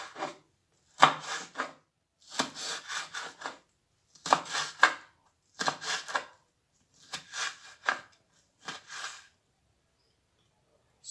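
A knife chopping a hot Scotch bonnet pepper into smaller pieces on a board, in several short bursts of quick repeated cuts with brief pauses between them, close and fairly quiet.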